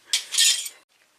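A Honda Accord EVAP rubber hose is snipped with a tool, giving a short, bright, crisp cut-and-snap of under a second, close and alone, then quiet.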